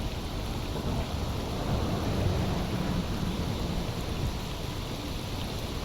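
Thunderstorm with rain in the video game S.T.A.L.K.E.R. Anomaly: a steady dense hiss of heavy rainfall with a low rumble of thunder swelling underneath, continuous and enveloping without voices.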